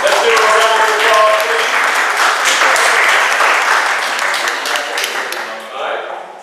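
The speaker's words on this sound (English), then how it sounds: "Let's do a round of applause," A spelling bee audience gives a loud round of applause close by, with voices mixed in at the start; the clapping holds steady and then tapers off toward the end.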